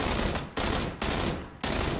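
Gunfire in PlayerUnknown's Battlegrounds: loud, close bursts of shots with short pauses between volleys, each decaying briefly before the next begins.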